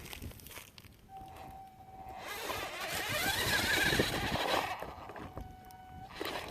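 Danchee Trail Hunter RC crawler in hill braking mode climbing a slope, its small electric motor whining and straining nearby for several seconds, with faint crunching of terrain beneath.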